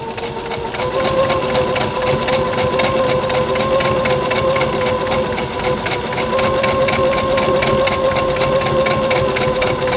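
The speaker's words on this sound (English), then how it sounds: "I'm sewing this on a 1/4 inch" Domestic sewing machine stitching a quarter-inch seam on a Double Friendship Star quilt block, running steadily and continuously near the microphone with a fast regular whir and no pauses.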